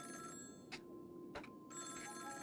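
An old telephone rings twice in a video game set in Freddy Fazbear's Pizza, two short bright bursts of bell tone standing out against a steady electronic hum and background ambience.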